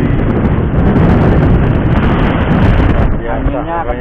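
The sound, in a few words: strong wind blowing at seaside fishing spot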